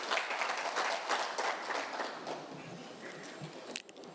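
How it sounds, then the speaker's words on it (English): Audience applause at a parole conference of a prisons and correctional service, a steady wash of many hands clapping that thins out over about four seconds, with faint voices underneath. "A round of applause."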